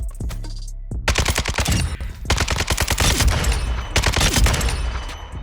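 Automatic weapon fire in the Call of Duty Modern Warfare 2 firing range, loud rapid bursts of shots in three long sustained strings with brief gaps.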